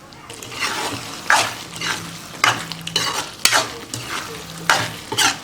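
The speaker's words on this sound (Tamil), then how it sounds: "அந்த எண்ணெயோடு அந்த முட்டையும் போட்டுக்கலாம்." Fried eggs stirred into drumstick thokku with oil, rhythmic spoon scrapes and stirring strokes over a steady sizzle, close and fairly loud.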